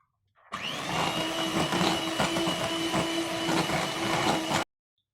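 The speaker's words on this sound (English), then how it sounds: "using our whisker again, we're going to whisk this to a smooth consistency" Cream cheese and lemon juice being whisked to a smooth cheesecake base, a steady, loud whirring drone that runs unbroken for about four seconds, then stops abruptly, with no talking.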